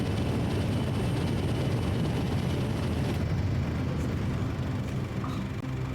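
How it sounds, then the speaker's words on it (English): Engine roar of a modern-looking airplane in the video game Bayonetta, a loud, steady broadband drone that holds throughout with no talking. "Ah, yes, the most modern-looking airplane."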